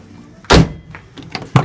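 A single loud car door clunk near the start, followed by a couple of softer thuds and clicks a moment later.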